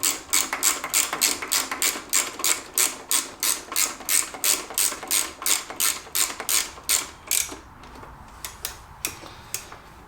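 A hand ratchet clicks rapidly while tightening a 4mm mounting bolt for SW-Motech Urban ABS panniers on a Honda CB1000R Neo Cafe, a steady run of close, sharp ticks that slows into a few spaced clicks at the end.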